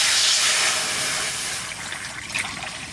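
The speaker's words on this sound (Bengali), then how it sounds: "কড়াইতে জল দিয়ে দেবো প্রথমে।" Water is poured into a wok set on a clay stove, giving a continuous rushing splash that is loudest at first and then tapers into a softer, more broken trickle.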